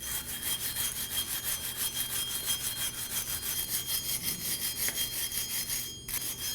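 Close, steady scrubbing of a hand wire brush clearing rust and debris from a Nissan Armada rear wheel hub around the studs, a fast even rasp of repeated strokes with a brief metallic tick near the end.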